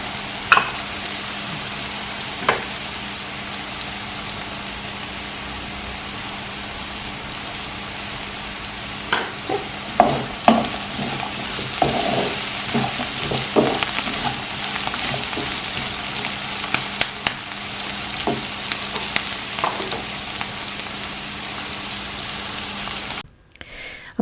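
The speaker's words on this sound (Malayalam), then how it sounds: "അപ്പോൾ അതുകൊണ്ടൊരു ചെറിയ തീയിലിട്ടിട്ട് ഇത് ഒന്ന് നന്നായിട്ടൊന്ന് മൂപ്പിച്ചെടുക്കാം" Jackfruit seed mezhukkupuratti roasting in a pan on a low flame, a steady soft sizzle with scattered crackles and spoon taps through the middle, close and continuous, ending abruptly with no talking.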